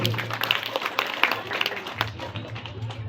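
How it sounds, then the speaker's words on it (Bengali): An audience claps at a school debate on the pros and cons of mobile phones. The applause is a scattered, steady patter lasting about three seconds, over a low hum, with no voices standing out. "আপনারা একটু হাততালি দিয়ে সহযোগিতা করবেন"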